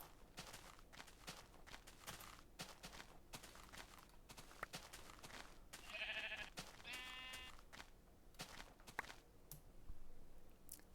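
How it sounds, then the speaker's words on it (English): Sheep bleating in a video game, two short bleats in quick succession over a quiet bed of clattering footsteps and faint clicks, soft and somewhat distant. "Oh, finally sheep."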